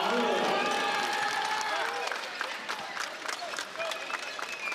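A crowd at an AAU youth basketball game cheers after a dunk, a loud roar of voices and clapping that fades gradually, with a commentator talking over it.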